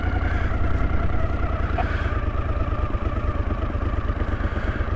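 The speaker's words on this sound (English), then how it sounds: "Yeah, it's idling a little bit low." A 1981 Honda CX500 motorcycle engine idling a little low, giving a steady, even, close putter with a rapid regular pulse and light mechanical clatter, with no talk over it.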